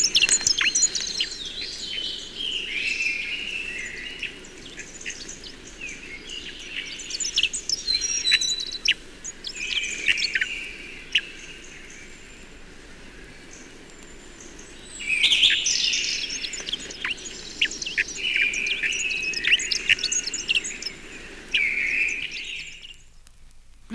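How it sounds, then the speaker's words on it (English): Hedge sparrow display song from garden shrubbery in March, a run of high, thin warbling phrases repeated in bursts over faint insect-like chirring, fairly close and with no voices. "Hedge sparrows often keep close to the shrubberies from which their display notes can be heard in March."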